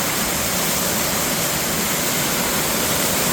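A loud, constant roar of rushing water pours down without a break, steady and close, with no other sounds, at Little Bradley Falls waterfall.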